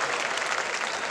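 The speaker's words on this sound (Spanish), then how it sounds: "Vengan los aplausos." A comedy show audience at a laughter festival in Chimbote applauds, a continuous, even wash of many hands clapping throughout.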